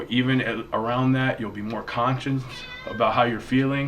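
A hungry cat meows in the morning, its cries mixed in with a person talking steadily nearby.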